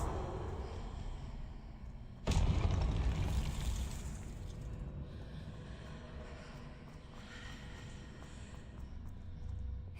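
Confringo explosive spell blast from Hogwarts Legacy, a single sudden loud burst that rumbles and hisses before fading into a low ambient drone, no speech.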